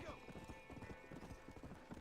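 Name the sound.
horse galloping in Red Dead Redemption video game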